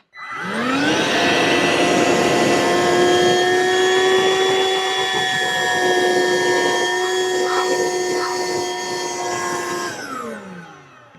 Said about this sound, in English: So now I'm going to go ahead and turn the vacuum on.